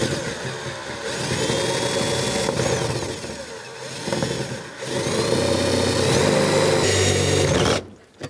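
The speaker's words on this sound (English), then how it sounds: "You can start with a smaller drill bit." A power drill bores out a rivet on the front exterior door handle of a 1999-2025 Ford E-350 Super Duty van, starting with a smaller bit. A steady loud whine runs almost continuously, with brief dips, then stops abruptly near the end.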